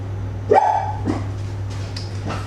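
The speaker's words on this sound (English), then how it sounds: "I have a dog. I have 2 dogs. And every now and again Sebby just likes to remind us that he's here." A pet dog barks indoors in a kitchen: a sharp close bark followed by a second, softer yip, over a steady low electrical hum with no talking.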